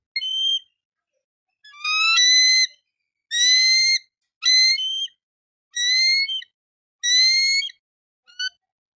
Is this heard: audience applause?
no